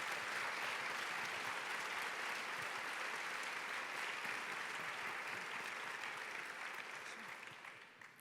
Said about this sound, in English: Please, let's give them another applause for that wonderful video.